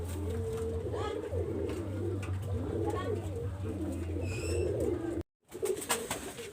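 A pair of Salara pigeons coos in soft, repeated low calls over a steady mechanical hum, with a brief dropout near the end before the sound resumes.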